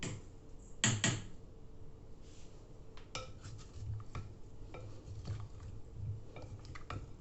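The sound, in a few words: stirring sautéed potatoes with garlic and parsley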